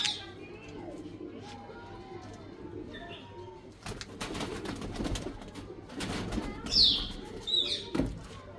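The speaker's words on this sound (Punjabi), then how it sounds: "ਇਹਨੂੰ ਕਾਲੀ ਪੇਟੀ ਵਾਲਾ ਕਬੂਤਰ" A black-belted pigeon coos in repeated soft, low phrases close by, with occasional chirps from other birds and light background noise.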